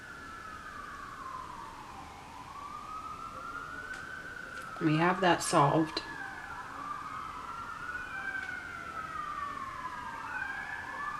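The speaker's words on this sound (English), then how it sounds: "Again, the sirens are back." A siren wails steadily in the distance, rising and falling in long sweeps, with a brief burst of speech in the middle.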